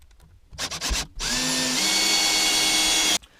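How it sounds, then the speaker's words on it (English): A power drill drives screws into 2x2 wooden studs for a movable pegboard wall, with short whirring bursts at first, then one long steady high whine that stops abruptly, loud and close with no talking. "we'll go ahead and screw everything together"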